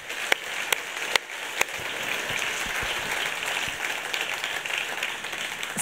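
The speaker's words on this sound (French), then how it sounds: "Vous pouvez les applaudir, je pense qu'il faut le faire." Steady audience applause at a business evening event, dense clapping filling the room throughout, with a few sharper individual claps near the start.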